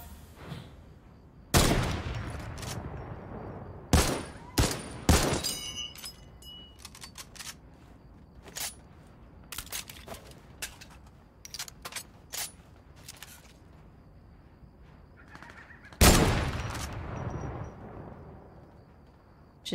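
A turret fires in a video game. Scattered loud bursts and single sharp reports are separated by quieter gaps, with heavier blasts early on and again near the end.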